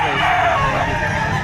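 A rooster crows once, loud and close, at a Saturday chicken market behind SM City Lipa in Batangas, with a faint bustle behind it.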